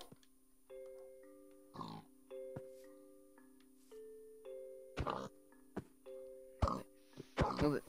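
Pig grunting in the video game Minecraft, several short grunts scattered over a soft chiming musical background, with a few louder bursts near the end.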